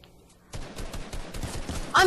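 Gunfire from a Team Rumble video game match sounds as a dense burst of rapid shots above a low background, closing in a louder, brighter burst at the very end, with no clear speech.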